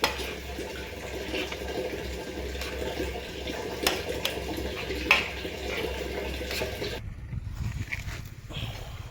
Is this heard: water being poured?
yes